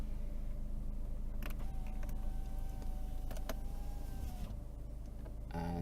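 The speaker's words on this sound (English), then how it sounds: "there's the electric mirrors up and down" Small electric motors whir in short bursts as a Volvo C30's power door mirrors tilt up and down, a faint mechanical hum with brief clicks over a steady idling background.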